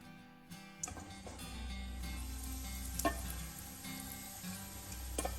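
Calamari fry in olive oil in a pan, a faint steady sizzle with a low hum underneath and occasional small ticks and pops.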